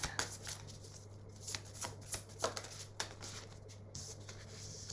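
Tarot cards are shuffled by hand in a quiet room, a close series of soft riffling flicks and slaps in irregular bursts, alone over a faint steady hum.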